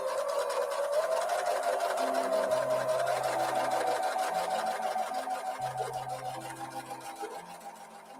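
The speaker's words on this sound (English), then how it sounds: "I will now take a couple of these strips up to the sewing room and sew a scant 1/4 inch seam" A sewing machine stitching a scant quarter-inch seam along fabric strips, a steady rapid whirring hum running continuously and close, gradually easing off toward the end.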